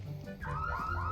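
In the Roblox game Criminality, a door alarm goes off when a door is opened, a looping electronic wail that rises and repeats over faint background game noise.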